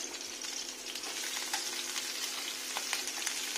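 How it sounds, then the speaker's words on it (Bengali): Eggplant pieces frying in white cooking oil for a rohu fish dish make a continuous close sizzle and crackle, with small sharp pops and faint scraping of stirring throughout, and no talking. "সাদা তেলে প্রথমে বেগুনগুলো আগে ভেজে নেবো 1 মিনিট"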